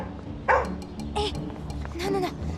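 A dog barks and yips in a few sharp bursts while people talk over it during a hurried scene.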